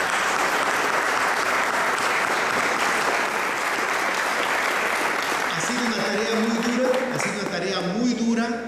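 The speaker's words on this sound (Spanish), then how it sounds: "yo quisiera empezar pidiéndoles a todos ustedes un aplauso" Sustained applause from an audience at an event in Ecuador, loud and continuous, with a voice beginning to speak over the clapping as it tapers toward the end.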